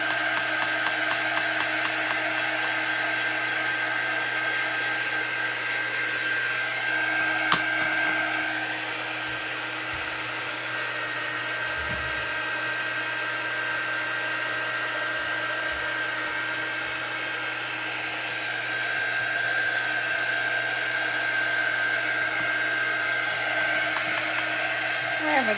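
A hair dryer blows steadily on chalk paste during a craft project, a constant close whirring hum with a high tonal whine that runs unbroken for the whole stretch, with small handling clicks along the way.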